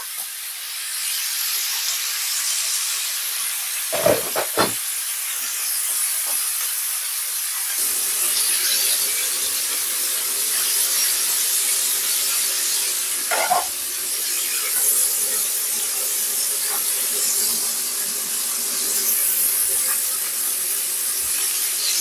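Meat browning in a pot for Jamaican rice and peas gives a steady, broad sizzling hiss that carries on throughout, with a few sharper pops and spatters breaking through.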